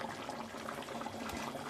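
Nellore-style fish curry gravy simmers in a pan, with a steady, close bubbling and soft popping that stays even and unbroken.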